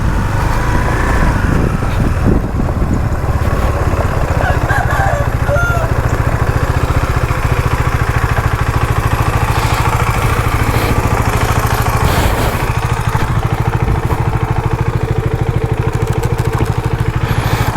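A motorcycle engine runs continuously with a loose-sounding drive chain, a steady close rumble with rattling and mechanical clatter throughout, and a voice talking over it at times.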